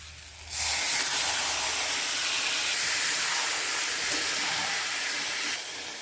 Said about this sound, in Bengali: এখন আমি লাউটা দিয়ে দিচ্ছি।